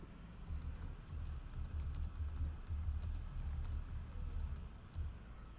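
Keys clatter steadily on a computer keyboard as a comment is typed into milling software, a continuous run of quick, close, moderately loud taps with no voices.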